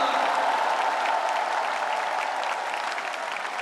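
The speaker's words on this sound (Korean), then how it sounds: "박수 한번 부탁드립니다." Large audience applauding at a political party convention hall, dense continuous clapping that stays loud and even throughout, with no voices on top.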